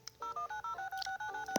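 Telephone dialing tones from an emergency phone in an airplane story video game: a quick run of about eight short, evenly spaced beeps, clear and close, with no talk.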